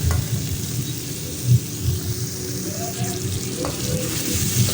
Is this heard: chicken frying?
yes